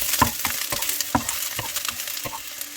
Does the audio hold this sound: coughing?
no